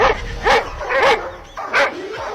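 A dog barks four times close by, short sharp yelps at a fairly even pace with brief quiet gaps between them.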